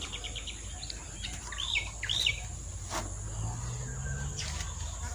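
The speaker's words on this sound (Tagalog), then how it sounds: "may ibon na tayo" A couple of short bird chirps rise over a steady outdoor hiss of insects, the calls faint and brief, with no talking.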